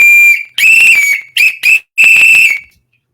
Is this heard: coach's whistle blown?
yes